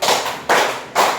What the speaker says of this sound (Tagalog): Bigyan nga natin ng tatlong palakpak si Shane.